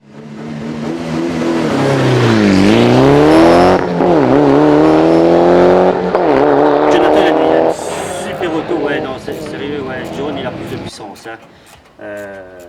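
A small-engined Subaru rally car drives hard, with loud close engine revs rising and falling through gear changes, a long pull then lifts off, and the roar fading toward the end.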